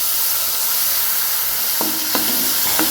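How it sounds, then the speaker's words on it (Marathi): Finely chopped tomato and onion sauté in a hot pan with a continuous close sizzle, broken by a few sharp spatula taps and scrapes toward the end. "टोमॅटोला सुद्धा आपल्याला भाजून घ्यायचं आहे. परतून घ्यायचं 2 मिनिटं."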